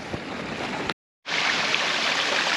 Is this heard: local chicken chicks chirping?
no